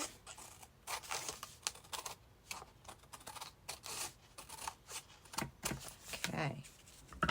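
Scissors cut through junk mail paper in a steady run of crisp, papery snips and rustles, close up and moderately loud, under occasional talk.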